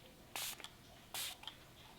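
Two short hissing bursts of facial mist from a spray bottle, close and fairly loud, separated by about half a second of quiet.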